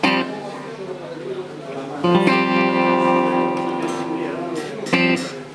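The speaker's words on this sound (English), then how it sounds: "if I want a delay, I just push that one." Electric guitar chords ring out with a delay effect, repeats trailing behind each strum; two fresh strums hit sharply after a sustained, echoing passage.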